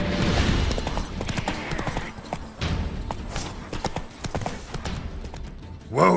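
Roach, a horse in The Witcher 3, gallops with rapid, rhythmic clip-clop hoofbeats, loud and close. The pounding fades briefly midway and then resumes, with game ambience beneath it.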